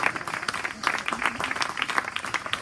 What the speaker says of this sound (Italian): Applauso spontaneo.